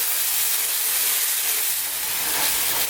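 A tofu curry bubbles and sizzles in a pan over heat just above a simmer, giving a steady, bright hiss that runs evenly throughout, close by and fairly loud.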